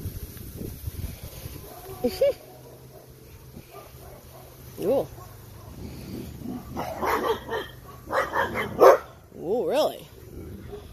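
Several short dog barks and yips from playful puppies and an adult dog, scattered and fairly close, mixed in with ongoing human talk and a voice imitating a bark.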